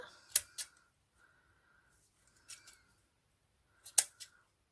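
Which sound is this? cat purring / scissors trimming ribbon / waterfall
scissors trimming ribbon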